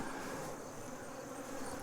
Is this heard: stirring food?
no